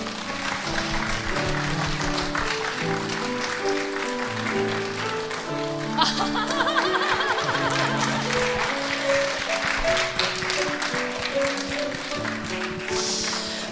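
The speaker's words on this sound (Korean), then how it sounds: "큰 박수로 축하해 주셨으면 좋겠습니다" A church congregation applauds warmly, a sustained wash of clapping that rises and carries on for several seconds with instrumental music playing underneath.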